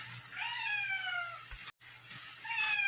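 A cat meows in a home kitchen while greens cook, a drawn-out falling cry followed by a brief gap and a second rising meow near the end, fairly close over a low steady hum.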